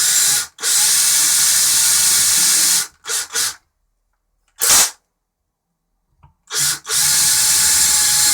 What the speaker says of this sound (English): When you feel the drill bit breaking through, then you want to stop.